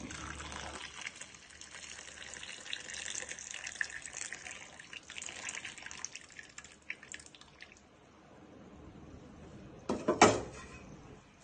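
Water is poured and drips into a pot while drumstick leaf rasam is prepared, a faint steady trickle with a brief louder splash near the end.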